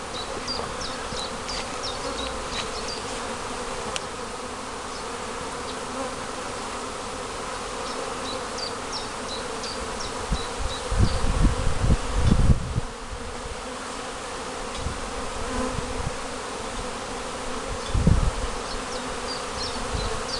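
Honeybees swarm and drone around the hives of a spring apiary at midday, a dense continuous buzz with birds chirping faintly in the background and a few louder close passes.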